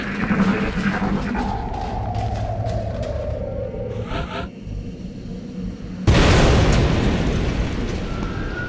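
A vehicle bursts into flame and explodes in the XCOM game: a long rumbling roar with a sustained descending tone, then a sudden loud blast about two-thirds of the way through that stays dense and heavy to the end.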